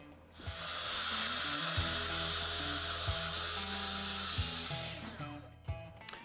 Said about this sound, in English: wherever I line that up is exactly where my saw is going to cut